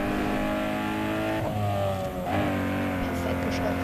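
A street racing car in Need for Speed Underground 2 holds a loud, sustained engine drone with a gear shift partway through, the pitch dropping and climbing again.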